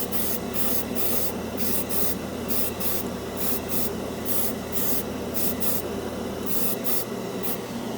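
An airbrush sprays cheap craft-store acrylic paint onto a scale-model spoon as a constant close hiss. The spray is broken by quick pulsing interruptions as the trigger is worked.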